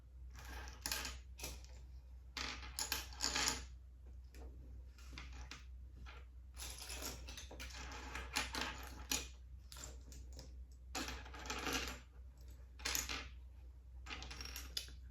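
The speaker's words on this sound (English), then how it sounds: "Now I've got to get the Legos onto the table." Plastic Lego bricks are scooped and shifted onto a table in a quiet indoor room, close-up bursts of light clicking and clattering coming in irregular clusters with brief pauses between them, and no talk.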